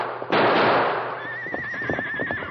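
A pack horse in an old western radio drama whinnies with a long, wavering cry right after a sharp burst of gunfire, with scattered thumps and hoof-like knocks beneath it.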